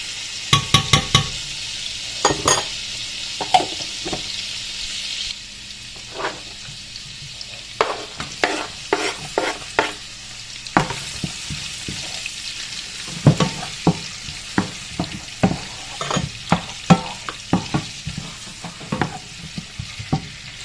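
Garlic sizzling and frying in a hot pan, a steady crackling hiss broken by sharp clicks and scrapes of stirring, close and fairly loud with no talking.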